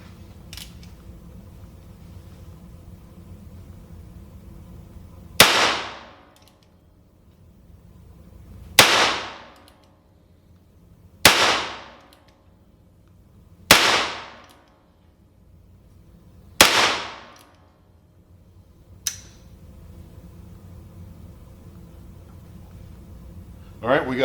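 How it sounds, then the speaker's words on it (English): Five sharp gunshots from a Heritage "Joker" single-action revolver firing Federal .22 Long Rifle rimfire rounds at a target about 25 feet away, spaced a few seconds apart, followed by a faint click, over quiet outdoor background. "we got 5 shots and then we have a failure to fire"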